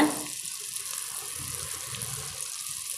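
Rose cookie (achu murukku) batter drops into hot oil with a sharp initial splash, then settles into a steady, moderately loud bubbling hiss of frying.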